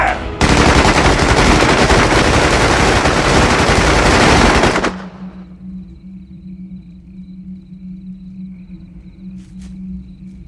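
Dense, loud automatic gunfire from a squad of soldiers on command in a 1996 action film, a sustained roaring burst of several seconds that cuts off abruptly, leaving a low hum and faint distant sounds.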